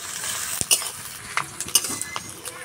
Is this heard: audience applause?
no